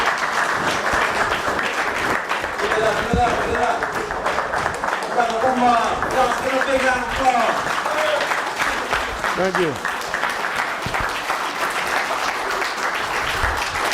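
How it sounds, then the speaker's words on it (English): An audience applauds steadily, a dense wash of clapping that carries on throughout, with cheering voices rising over it. "Give a big round of applause"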